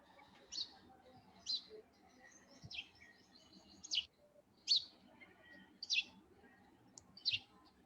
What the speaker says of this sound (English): Sparrow it is. So this is a male sparrow.